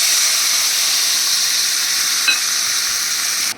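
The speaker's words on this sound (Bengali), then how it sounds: "এই দেখো এই জলটা আমি দিয়ে দিচ্ছি" Water is poured into a pan of simmering potatoes for a Bengali kajli fish curry, a steady, loud sizzling hiss with bubbling that holds evenly throughout and cuts off abruptly at the end.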